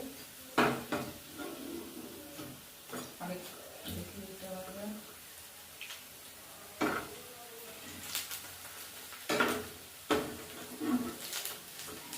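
Broccoli pakora fries in hot oil in a home kitchen, with soft bubbling broken by scattered clinks and scrapes of utensils against the pan, and a voice speaks at times.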